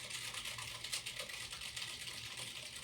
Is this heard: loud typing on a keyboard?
yes